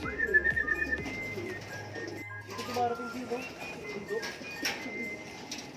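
Pigeons coo in soft, low murmurs close by at a loft trapdoor in Sariaya, Quezon, mixed with a few chirps and faint background noise.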